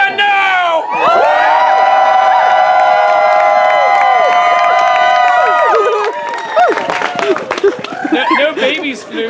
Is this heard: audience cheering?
yes